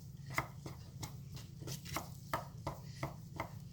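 Homemade slime with cornstarch is mixed in a bowl, giving quiet, evenly spaced taps and squelches in a steady rhythm.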